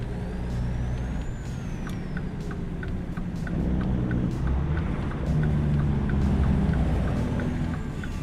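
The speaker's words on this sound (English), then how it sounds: "That one was using the engine brake." Engine brake on an AI truck in a truck driving video game on Route 66, a loud low rumbling drone with rhythmic chattering pulses over steady road and engine noise, close and continuous.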